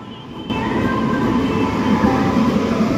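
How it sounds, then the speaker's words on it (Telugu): A train's steady rumble fills the space, a broad continuous roar with faint tonal hums, like a passenger train standing or idling at Secunderabad railway station. "మనం ఎక్కే ట్రైన్ అయితే ఇదే."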